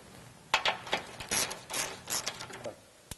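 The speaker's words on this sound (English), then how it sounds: "we need to remove the 2 mounting bolts on this side" Ratcheting socket wrench loosening mounting bolts on a Jeep JL 3.6L four-door during a bellypan skid plate install, a series of close, fast mechanical clicks and clatters in short bursts, ending with a sharp click.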